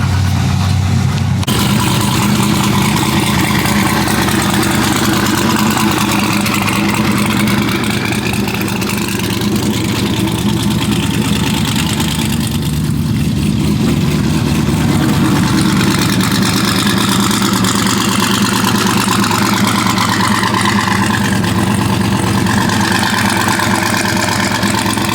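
A car engine idles steadily while warming up, a close, even mid-low drone that holds for the whole stretch with no speech.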